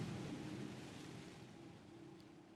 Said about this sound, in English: as the roller coaster is dropping towards the water, we're given the effect that the water is splashing up and soaking everybody that is on our coaster